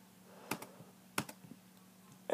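Keys on a graphing calculator are pressed in sharp, isolated clicks, three or four distinct presses spaced across a quiet room with a faint background hum.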